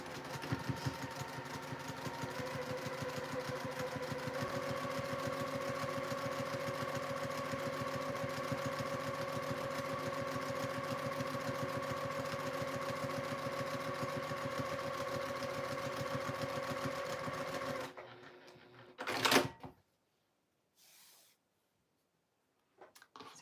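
A sewing machine hems sleeves with a steady, continuous motor drone that runs for about eighteen seconds, then stops abruptly, leaving a brief clatter and near silence.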